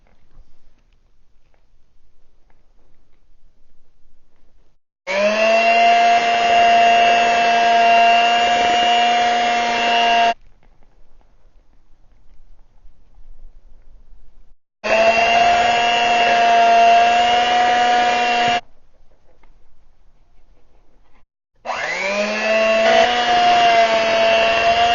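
Electric hand mixer beating cookie dough as sifted flour with baking powder is added, three loud whirring bursts of several seconds each separated by quiet pauses.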